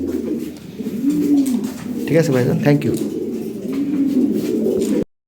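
High-quality Lahori and Sirazi pigeons coo continuously and close up, a dense low murmur of several birds, while someone speaks briefly over them partway through.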